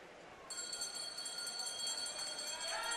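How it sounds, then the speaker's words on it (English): A bell signals the final lap at a university swim meet, starting suddenly and ringing steadily as a continuous metallic clang against the noisy, echoing pool crowd. "if you hear the bells, that means that it's the start of the final lap for the swimmers"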